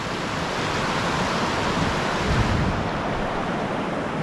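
Fast-running flood water rushing past a river crossing near a waterfall campground, a steady broadband roar that stays loud and unbroken throughout, with no voices.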